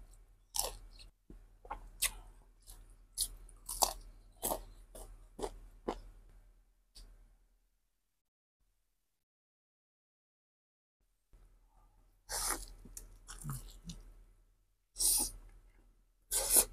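Crunchy 16-spice fried chicken being chewed up close, loud crisp bites and crunches in a steady rhythm, then a long silence before another burst of crunching.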